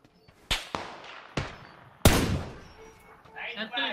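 Gunfire in PUBG: a few sharp, separated shots ring out, with one louder blast followed by a decaying echo, and a voice speaking briefly near the end.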